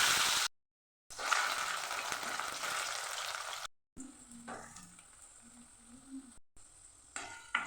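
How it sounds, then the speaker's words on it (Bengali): Cubed potatoes coated in salt and turmeric fry in mustard oil in a wok for a bitter gourd and potato kalia, giving a steady close sizzle with stirring scrapes, broken by brief cuts. "করলা আলুটা ভেজে নেবো কালিয়ার জন্যে"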